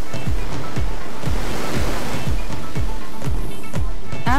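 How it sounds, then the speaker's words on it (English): High-pressure water jets at 160 bar blast mill scale off hot steel before the roughing mill of a rolling line, a loud continuous hissing roar broken by regular low thumps. "In order to cleanse the surface, water is sprayed at high pressure"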